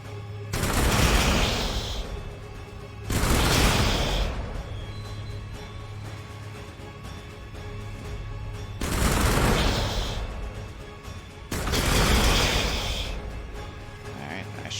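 Bursts of gunfire and explosions from the video game Warhammer 40000 Sanctus Reach come in several loud volleys separated by short lulls, over a continuous low hum of game ambience.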